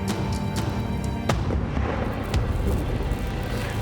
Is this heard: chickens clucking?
no